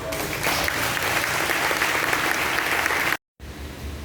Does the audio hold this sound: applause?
yes